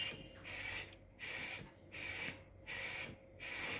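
A Panasonic servo motor training kit runs its motion sequence in bursts of mechanical whirring and ratcheting, about five evenly spaced pulses separated by short pauses, quiet and close.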